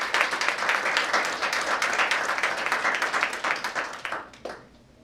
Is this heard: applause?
yes